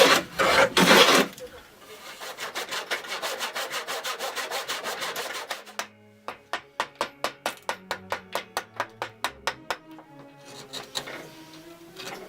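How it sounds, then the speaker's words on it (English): Repeated scraping strokes of a hand plane across wood, first a rough continuous rasp, then a quick, regular series of short shaving passes. "I'm just going to plane it off because it's got some rough edges"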